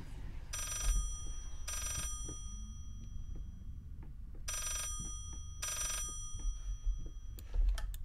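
An old telephone in the horror game Layers of Fear rings in four loud, even bursts, each about a second long, with quiet, low room noise between the rings and one faint knock near the end.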